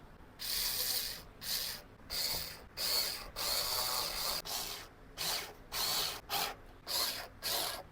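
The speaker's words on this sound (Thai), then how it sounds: "เดี๋ยวเราจะต้องใช้ น็อตนะครับ ในการเจาะยึดทางด้านข้างด้วยนะครับ" A power drill driving screws to fix a wall-mounted shelf, a series of about nine short whirring bursts separated by brief pauses, close and fairly loud, with no talking.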